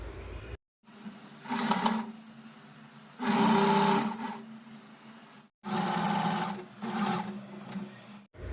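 Sewing machine stitching fabric for a puffy sleeve, running in several loud bursts of steady rapid whirring, separated by short pauses and quieter gaps.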